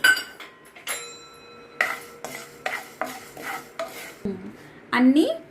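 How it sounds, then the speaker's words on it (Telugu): Dry scraping and rattling of cinnamon and cumin seeds being dry-roasted and stirred in a hot pan, in short repeated strokes, close up, with a brief faint clatter at the end. "దాల్చిన చెక్కను జీలకర్ర 2 కలిపి వేయించేస్తున్నానండి"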